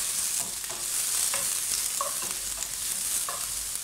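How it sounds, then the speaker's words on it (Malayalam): Onions and green chillies fry in a pan for a Kerala jackfruit erissery curry, making a constant close sizzling hiss broken by a few soft stirring scrapes, with no voices. "മുളകൊന്ന് ചെറുതായി മൂക്കുമ്പോഴത്തേന് നമുക്ക് സവാള ഇടാം."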